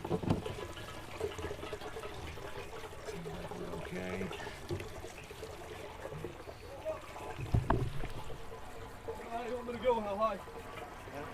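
Water trickles and splashes while an RV's water tank is filled, a low, uneven gurgle and drip heard close by under scattered talk and movement, with a few louder knocks along the way.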